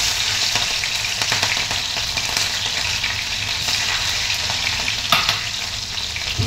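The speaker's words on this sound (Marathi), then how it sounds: "मिरची तेलामध्ये चांगली अशी तळू द्यायची, म्हणजे त्या मिरचीचा तिखटपणा पोह्यात येतो." Green chilies fry in hot oil with cumin for potato poha, giving a steady, close sizzle with occasional stirring scrapes and brief louder crackles throughout.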